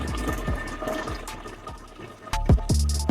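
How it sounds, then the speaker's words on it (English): Water from a reverse osmosis system running into a two-gallon container, splashing and trickling steadily with a few sharper gurgles and drips near the end. "My RO water running there."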